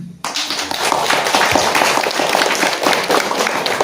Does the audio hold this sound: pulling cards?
no